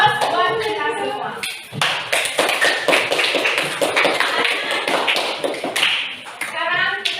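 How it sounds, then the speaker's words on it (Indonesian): Classroom applause from a group of teacher-training students in a civics lesson, a run of quick hand claps and taps close by, mixed with voices talking over and around it. "Berikan dong aplaus buat kita semua"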